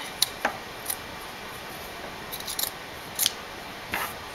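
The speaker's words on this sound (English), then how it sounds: "Now the top, cut that off so it'll be open." Scissors snip through a denim jean jacket, several short crisp cuts spaced irregularly, close and fairly quiet against a soft background hiss.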